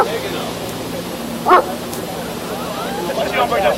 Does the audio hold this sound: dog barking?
yes